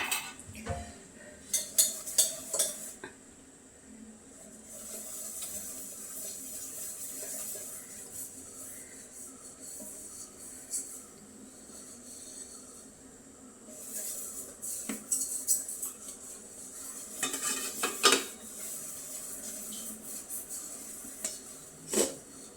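Metal plates and utensils clink and clatter in a kitchen as idli plates are set and batter poured, with a low steady hiss of boiling water underneath and a few sharper knocks.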